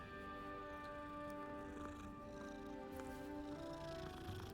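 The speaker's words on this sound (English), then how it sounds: "Oh, we just pet the kitty." A cat purrs steadily while being petted in the video game Hogwarts Legacy, a continuous close, moderately loud rumble with a few faint ambient tones and no talk.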